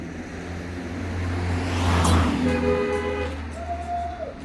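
A car passing on a road beside a parked Honda NC750X motorcycle, its broad whoosh rising to a peak midway and then fading, over a steady low hum.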